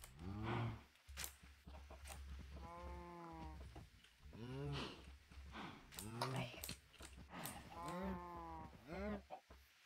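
Blocky farm-animal moos from cows in the video game Minecraft, several long drawn-out calls spaced across the stretch, loud and close over a low game hum with a player talking around them.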